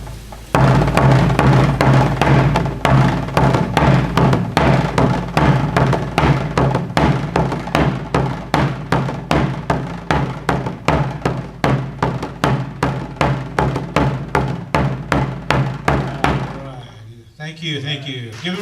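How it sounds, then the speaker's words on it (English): A hand drum beats the rhythm played for a stickball game, struck hard and loud in an even, steady pulse of heavy booming hits for about seventeen seconds before stopping, in a symposium hall. "do the beat that we play for our stickball game, and I want him to hit it hard"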